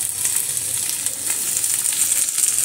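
Potatoes frying in a pan without spices yet, a loud, bright, continuous sizzle close up, steady with slight swells, no talking.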